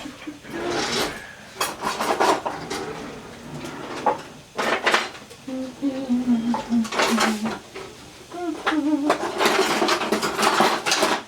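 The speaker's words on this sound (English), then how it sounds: "now I'm just going to go ahead and add this to my pan, and I'm just going to saute this for about 2 minutes" A pan of spinach filling for a turkey meatloaf is sautéed, with close, repeated scraping and clattering of a utensil against the pan and some voice-like tones in the background.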